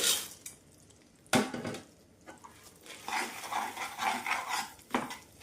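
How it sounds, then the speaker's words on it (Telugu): Spoon scraping and stirring a chana dal chikki mixture of roasted chana dal, cardamom powder and syrup in a pan, with faint intermittent scrapes and a few sharper clanks of utensil against metal, close and fairly quiet. "శనగపప్పు అవి కూడా వేసుకొని బాగా కలపాలి"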